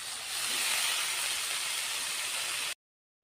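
Leafy greens cook in oil with green chilies in a pan, giving a steady, even sizzling hiss that cuts off abruptly into silence near the end.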